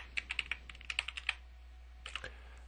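Typing on a computer keyboard: a quick run of light key clicks, a short pause, then a few more taps, close and quiet over a steady low hum.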